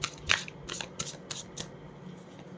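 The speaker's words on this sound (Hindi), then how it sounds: "last shuffle" Tarot cards are shuffled by hand, a quiet sequence of soft riffling flicks and slaps close by, several short bursts over a couple of seconds.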